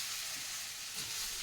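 Masala frying in a pan, an even close sizzle and hiss holding steady through a brief moment with no voices.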